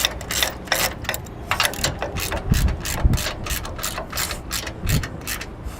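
A hand ratchet snugs down 3/8-inch grade 5 bolts mounting an Ultra-Fab electric A-frame jack on a trailer tongue, producing close, rapid bursts of metallic clicking that repeat steadily throughout.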